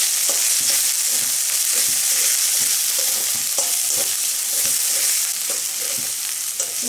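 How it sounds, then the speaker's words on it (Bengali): Turmeric, salt and dried chili powder frying in a pan for a prawn malai curry, a steady loud sizzle running throughout with scraping stir strokes at irregular intervals, no voices. "আমি সব মশলাগুলো খুব ভালো করে ভেজে নেব।"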